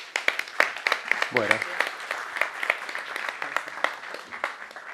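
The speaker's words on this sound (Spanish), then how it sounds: "lo recibimos con un fuerte aplauso" Crowd applause at a lecture, a dense patter of many hands clapping steadily, with a voice briefly speaking over it.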